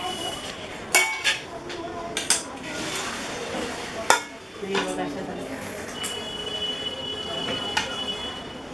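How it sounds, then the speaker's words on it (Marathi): A hot pressure cooker holding steamed colocasia leaf rolls (alu vadi) is opened in a home kitchen, with several sharp metallic clanks and a thin squeal of the lid and weights. Someone talks over the sounds. "हे बघा ना आता मी कुकर खोलते गरम आहे"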